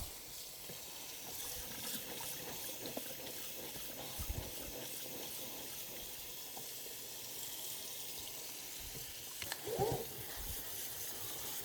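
Cold tap water runs steadily into a sink while white corn is rinsed, a continuous hiss of flowing water with a brief splash or clatter near the end, no talking.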